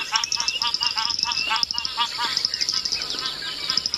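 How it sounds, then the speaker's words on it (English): A Klaas's cuckoo calls in a quick series of bright, repeated notes at sunrise, with a steady high insect-like whine behind and people speaking quietly now and then. "It's a Klaas's cuckoo."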